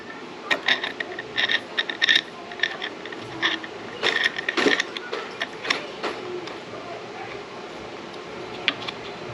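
A screw is tightened into a rod holder mount on a Hobie kayak, producing a run of close, irregular ratcheting clicks and ticks over several seconds with no talking.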